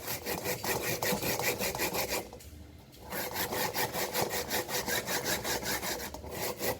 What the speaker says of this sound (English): You have to be careful with the grater because this grater is very sharp.